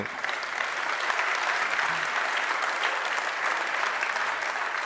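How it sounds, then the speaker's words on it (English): Conference audience clapping in a hall, a full, even wash of applause from many people that holds steady and close throughout without fading. "you can give a round of applause to yourself here"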